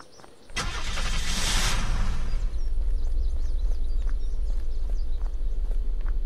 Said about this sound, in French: Ah, la voiture de police.